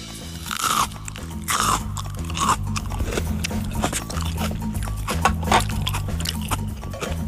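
Crunchy snack bitten and chewed close to the mic, a rapid series of loud crisp crunches repeating steadily over several seconds, with no talking.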